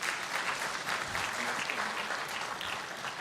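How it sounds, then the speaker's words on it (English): Clapping at a national taxi industry gathering: steady, dense applause from a room of delegates, fairly soft, with voices mixed in underneath. "Let's give ourselves another round of applause"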